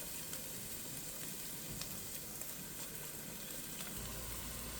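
Chopped onions sautéing in a pan for Louisiana-style jambalaya, giving a steady soft sizzle and hiss with faint stirring scrapes, close and quiet, no talking.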